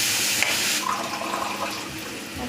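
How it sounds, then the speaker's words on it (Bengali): Water that was used to wash spices poured into a cooking pot, a steady splashing, gushing stream up close, loudest early on and then settling into a continuous trickle, with no talking. "এবার মশলা ধোয়া জলটা দিয়ে দেবো।"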